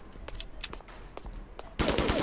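Gunfire from the video game 25 to Life: scattered sharp shots early on, then a loud, dense burst of rapid automatic fire near the end.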